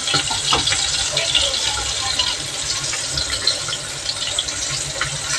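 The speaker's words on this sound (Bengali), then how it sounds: "এটা একটু জল দিয়ে দেবো।" Water streams and splashes steadily as it is poured in for coffee in a home kitchen. The sound is fairly close, with a voice talking alongside it.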